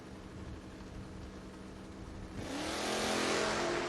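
Footbrake drag racing cars launching down the strip at a race meet: a steady distant engine roar that swells into a louder, broadband rush of acceleration in the second half, with no speech.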